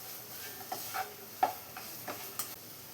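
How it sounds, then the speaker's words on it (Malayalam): Spoon stirring clam meat fry with grated coconut in a pan, a series of soft scraping clicks and taps at an uneven pace over a faint low sizzle, fairly quiet and close, no voices. "ഇനി ഇതെല്ലാം കൂടെ നന്നായി മിക്സ് ചെയ്തെടുക്കാം"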